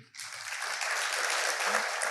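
An audience at a lecture on filial piety and etiquette education breaks into applause, starting abruptly and holding a steady, dense clapping for about two seconds after a brief murmur of voice.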